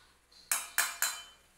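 Three quick metallic clinks of a utensil striking a pot or strainer while cooked lunch for egg chilli curry is strained, each sharp tap fading fast in a quiet kitchen.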